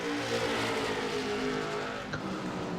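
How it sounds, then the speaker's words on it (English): A race car in a Friday night bump-and-run series at Martinsville Speedway roars into a turn with brakes locking, tires squealing and skidding under the loud, sustained engine drone, with no voices heard. "it looks like Nick's locking up one of the left front"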